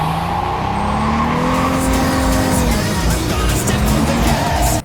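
A newly added MR2-like sports car in Cyberpunk 2077, its engine droning loud and close with a rising, shifting pitch as it drives, ending abruptly.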